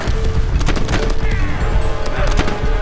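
Bomb explosions and gunfire in a video game battle, a dense loud barrage of booms and crackling blasts packed closely together.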